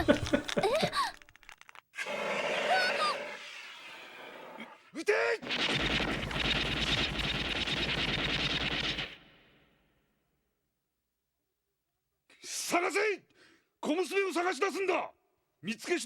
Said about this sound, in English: he's freaking just got all these German dudes with machine guns